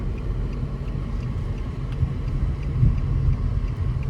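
A steady, low engine and road rumble inside a 2025 Nissan Versa S with the S+ Package as it pulls onto the interstate under moderate throttle, a continuous drone with no talk over it.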